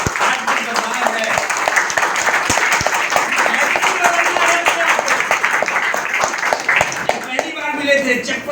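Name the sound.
loud applause from an audience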